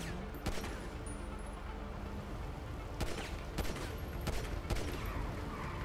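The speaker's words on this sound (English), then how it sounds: "Stop shooting, stop shooting." Gunfire bursts from a GTA 5 heist mission, with sharp broadband shots at intervals amid a dense, busy game soundscape; no voices stand out.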